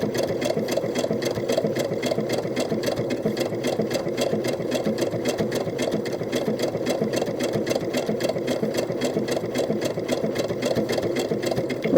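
A home sewing machine stitches doll clothes in a steady, rapid, even chatter of the needle, running continuously at a moderate level with no pauses and no voices.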